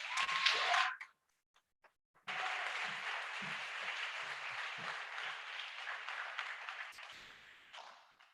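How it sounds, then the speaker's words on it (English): Audience applause at a 2021 graduation ceremony: a short burst of clapping, a brief pause with a few stray claps, then sustained loud applause from a large crowd that fades out near the end. "let's give Mustafa a big round of applause"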